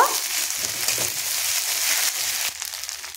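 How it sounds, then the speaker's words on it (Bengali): Ginger-garlic paste frying with onions in a pan, a close hissing sizzle with scraping and stirring noises from a utensil, fairly loud and unbroken, no talking. "তো আদা রসুনটা দিয়ে একটু ভেজে নিয়েছি"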